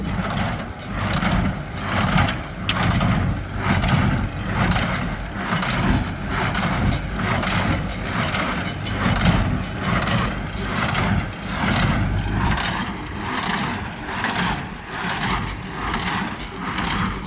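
A Massey Ferguson tractor engine idles loudly up close with a steady, rhythmic diesel throb that holds an even beat throughout.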